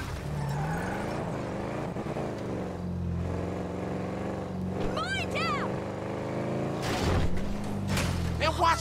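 A large motorcycle's engine in Grand Theft Auto V on PS3, a steady droning rumble that rises in pitch as it revs, with game character voices talking over it throughout.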